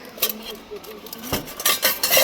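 Toy kitchen utensils in a toy store clink and clatter against each other in a handful of uneven, close knocks and rattles, with a faint murmur of voices underneath.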